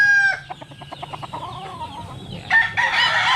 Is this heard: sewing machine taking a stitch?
no